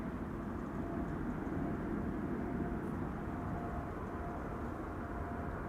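Royal Air Force aircraft flying over Amsterdam Schiphol Airport, a steady, loud, continuous roar of engine noise that holds evenly throughout.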